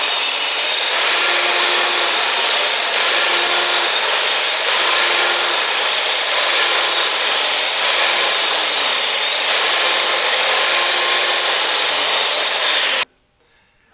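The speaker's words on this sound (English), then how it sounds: "I'm going to make the last cut with the miter saw" A miter saw cuts through wood for a shelf, a loud continuous broadband whine of blade in timber holding steady for about thirteen seconds before stopping abruptly, with no talking.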